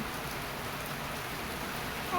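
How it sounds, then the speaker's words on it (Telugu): Steady, even patter of rain falling, soft and constant with no other clear sounds. "ఇక మాకు వర్షం పడుతుంది"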